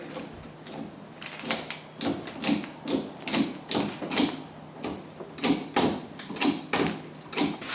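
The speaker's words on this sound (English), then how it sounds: "You probably hear some popping as things go up." A jack raising a sagging house floor with a steady series of popping and creaking clicks, rhythmic and fairly faint, repeating about twice a second with no talk.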